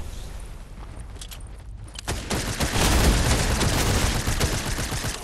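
Video game gunfire: after a quieter stretch with a few distant shots, a loud, sustained fusillade of rapid overlapping shots erupts and continues to the end.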